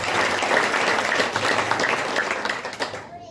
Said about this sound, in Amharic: ደግማችሁ አጨብጭቡ ለጌታ።